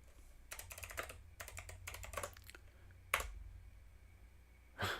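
Computer keyboard typing comes in quick bursts of soft clicks with short pauses between them, followed by a couple of sharper key presses, quiet and close in an otherwise still room.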